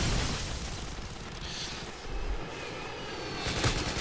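Chopper gunner helicopter cannon fire in Modern Warfare 2, heard as a steady, dense rumble of rotor and engine noise with explosive shell impacts surging near the middle and the end.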